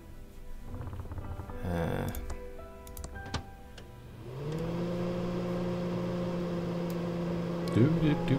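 A microwave oven in the Thimbleweed Park adventure game starts with a few clicks and clunks, then settles into a steady, loud, droning hum that runs on to the end.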